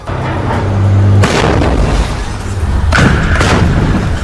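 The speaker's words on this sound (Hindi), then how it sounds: "उसके रॉकेट दागते ही एक और कान फाड़ देने वाला धमाका हुआ।" Two heavy booming blasts from fired rockets in the Israel-Hamas war in Gaza, one early and one later, each with a loud broadband burst and rumbling decay, against continuous background noise.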